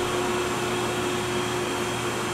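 Steady mechanical hum and whir inside a ThyssenKrupp hydraulic elevator at Shrewsbury Metrolink station as it descends to ground level, with a constant tonal drone and no pauses.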